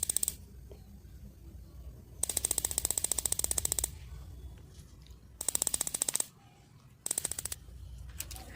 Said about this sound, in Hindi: जब हमने गैस गीजर को डायरेक्ट स्टार्ट किया तो उसमें लाइटर की आवाज़ अच्छी तरह से आ रही थी लेकिन उसमें आग नहीं जल रही थी